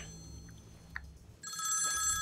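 A telephone rings in a South Indian action film dubbed into Hindi, a steady electronic ring that starts partway through over a quiet room background, moderately loud and close.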